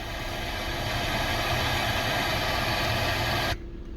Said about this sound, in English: If I can hear the static, I'm sure you can.